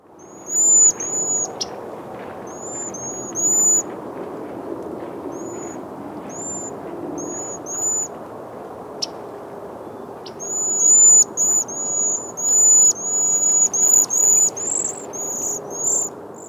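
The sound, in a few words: cedar waxwing high-pitched call notes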